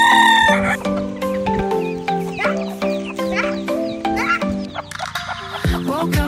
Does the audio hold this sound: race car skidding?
no